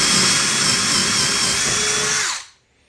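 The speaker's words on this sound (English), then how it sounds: "I'm going to be running my drill on high speed in the drilling mode." A loud, steady whine of a power drill on high speed in drilling mode boring through wood, running continuously close by before winding down and stopping near the end.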